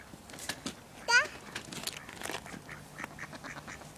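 Ducks quacking outdoors on a walk along a path, a loud nasal quack burst in the middle with scattered fainter quacks and chatter around it, mixed with people talking.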